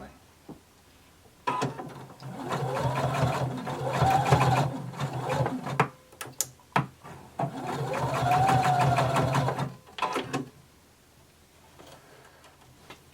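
A sewing machine stitches a belt loop to a garment's side seam in two sustained bursts of rapid mechanical whirring, separated by short clicks and pauses.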